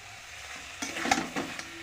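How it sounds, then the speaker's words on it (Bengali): Goat meat scraps and trotters being sautéed and stirred in a pan, with a low steady sizzle and a few soft stirring scrapes, close and fairly quiet, no talking. "এবারে আমি ঢাকা দিয়ে আস্তে আস্তে কষাবো"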